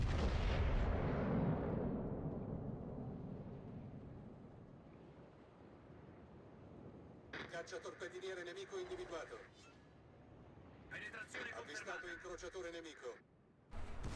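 A naval gun salvo from the battleship Cristoforo Colombo in World of Warships firing SAP shells comes as two separate long rumbling, crackling bursts of heavy gunfire. A quiet stretch with wind-like noise comes before them.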